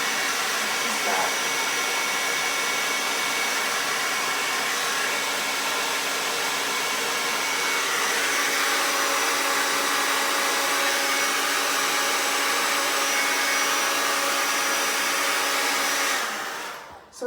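A hair dryer on its hot setting blows steadily and loudly while drying a wig, a continuous whooshing roar that holds nearly constant for the whole stretch before cutting off at the end.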